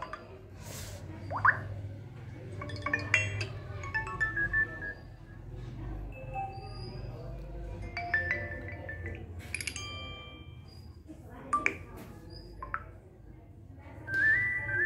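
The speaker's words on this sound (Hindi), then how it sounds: "मैं आपको प्ले करके दिखाती हूँ देखिए फ्रेंड्स" Several different short notification tones play one after another on a Vivo U10 phone, bright chimes and whistle-like beeps separated by pauses, with faint background hum.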